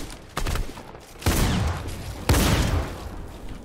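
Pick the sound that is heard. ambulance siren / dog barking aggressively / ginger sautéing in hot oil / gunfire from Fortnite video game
gunfire from Fortnite video game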